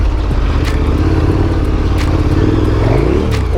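A dirt bike engine revs loud and close in deep mud as the rear wheel spins, a continuous rough roar with rising pitch and some clatter.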